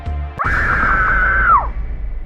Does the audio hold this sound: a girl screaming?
yes